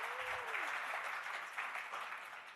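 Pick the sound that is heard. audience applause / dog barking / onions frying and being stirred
audience applause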